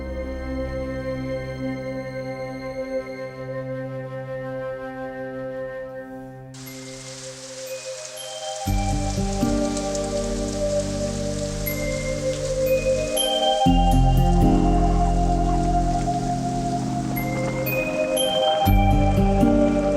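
Heavy rain starts partway through as a dense, steady broadband hiss and stays loud to the end, layered under ominous musical tones.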